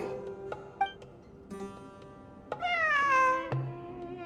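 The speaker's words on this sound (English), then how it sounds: "I'm not hearing things. It really is a cat." A cat meows in the video game Genshin Impact: several clear meows close by, one short and then longer drawn-out calls that rise and fall, over a soft ambient game background.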